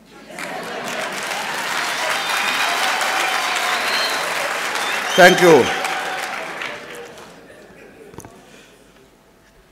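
An audience at a chancellor inauguration ceremony applauds loudly and steadily for several seconds, the clapping fading out near the end, with a brief spoken thank-you partway through.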